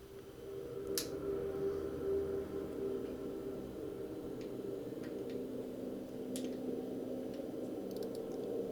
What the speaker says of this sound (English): we have a ringing ambient sound that I've added a pitch shifter and then